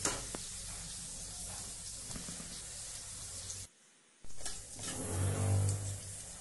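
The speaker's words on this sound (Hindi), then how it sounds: "अब हम इसमें डालेंगे क्यूमिन सीड्स और बे लीफ और थोड़ा सा दालचीनी का टुकड़ा और लवंग, और इसे भून लेंगे अच्छी तरीके से" Cumin seeds, bay leaf, cinnamon and cloves fry in hot oil with a loud, spitting sizzle close by, cut off by a short quiet gap before the hissing returns and swells again.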